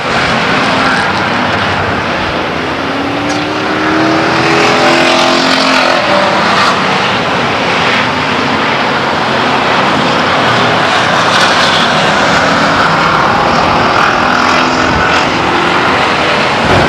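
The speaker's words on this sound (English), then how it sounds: "'37 car Joe Stearns trying feverishly to get around that turn 2 to close the gap and maybe put the 11 car in second place." Race cars roar around a speedway track on the final lap, a dense, loud, continuous engine drone that swells as cars pass close, with no talk heard.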